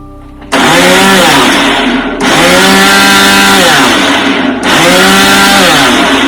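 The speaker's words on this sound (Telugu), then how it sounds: "మీరు ఎక్కువ ఫాస్ట్ గా గ్రైండ్ చేయదండి, లేకపోతే మనము ఆల్మండ్ బటర్ చేసుకున్నాము అలా అయిపోతుంది. స్లోగా ఒక బ్లెండ్ ఇచ్చి ఆఫ్ చేయాలి." Almonds being ground into flour in a blender, three loud sustained bursts of whirring motor and grinding, each stopping briefly before the next starts.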